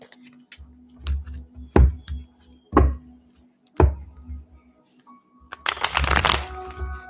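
A tarot card deck is shuffled close up in several quick riffling bursts separated by pauses, ending in a longer fluttering shuffle.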